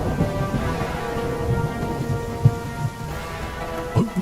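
Steady, heavy rain pours down in a scene from a Long March war drama. Low rumbles and a few sharp, close thunder knocks break through the downpour, with no talking.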